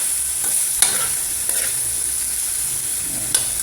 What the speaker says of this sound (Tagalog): Sangkutsay muna natin maigi.